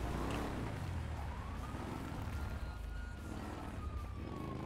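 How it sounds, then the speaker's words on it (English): Police sirens wail faintly in the distance, their rising and falling tones drifting over steady traffic and outdoor background noise. "I don't know what sirens I keep hearing."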